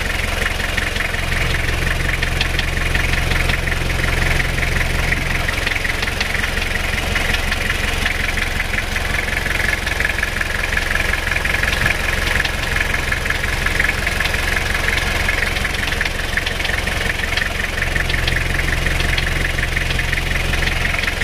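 A Toyota Kijang diesel engine with blow-by and white, oil-burning exhaust smoke idles loudly and steadily, with a continuous knocking rattle and droning hum throughout, recorded up close.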